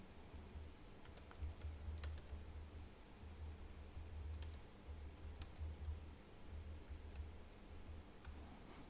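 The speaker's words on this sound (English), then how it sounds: "So you could simply type it right there, teach me the basics of coding." Typing a prompt on a computer keyboard, with clusters of light key clicks in short bursts over a steady low background hum, no talking.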